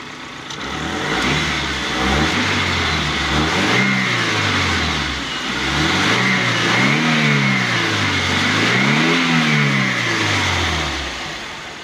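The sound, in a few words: gasoline car engine being revved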